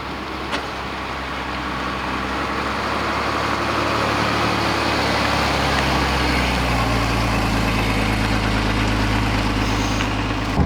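A classic Mercedes 280 W108 engine runs steadily and close by, a continuous low rumble with a slight rise partway through, with no talking.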